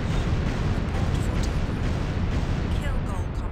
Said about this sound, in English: sonar soup, loud explosion, bearing 225